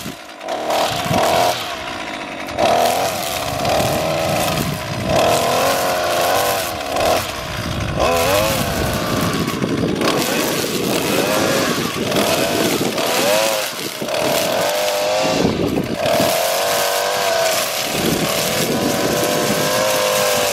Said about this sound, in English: I take my weed whacker and cut these all up, all at the top